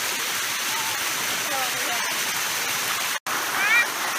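Bua Tong sticky waterfall in Chiang Mai: continuous broad rushing of falling water, loud and steady, with a brief dropout near the end and faint voices in the background.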